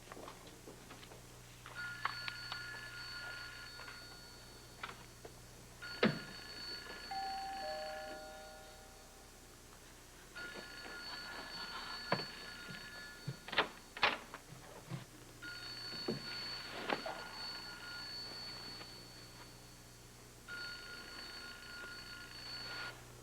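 A telephone rings unanswered at the other end of the line, the faint trilling bursts repeating at regular intervals through a quiet room with small background noises.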